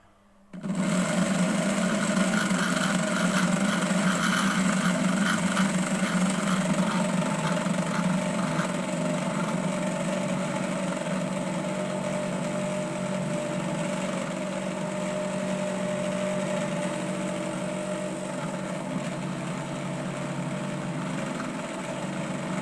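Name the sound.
AC motor running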